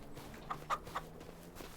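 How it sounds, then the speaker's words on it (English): A few soft, brief clucks from chickens, three quick calls in a row over a quiet background with light shuffling, in the video game Farming Simulator 25. "check on the chickens"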